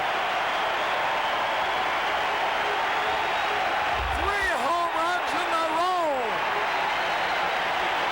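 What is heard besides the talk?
stadium crowd cheering and applauding a home run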